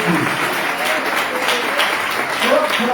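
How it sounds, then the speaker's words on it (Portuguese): A church congregation claps and applauds to welcome a woman preacher to the pulpit, a dense, steady wash of many hands filling the space at full volume throughout, with voices mixed in under the clapping. "vamos receber a serva do Senhor aplaudindo Jesus"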